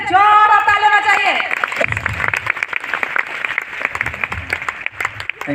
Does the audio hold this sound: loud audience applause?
yes